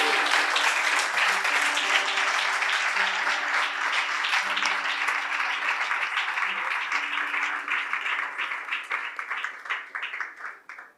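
Church congregation applauding together, a dense, steady wash of clapping that holds for most of the stretch and then thins and tapers at the end, with faint voices underneath.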